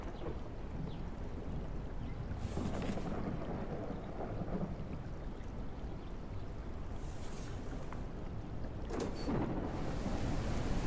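Steady rain pours in the survival game Humanitz, a constant wash of hiss with a few louder swells and low rumbles, heard alone without talking.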